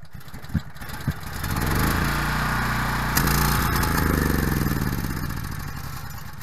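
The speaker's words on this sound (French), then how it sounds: "notre générateur a fini de consommer toute son essence qui était à l'intérieur du carburateur" A small petrol generator runs steadily at mid pitch until its carburettor runs out of fuel. A few clunks come before the engine settles into a continuous close drone that wavers slightly, with no talking.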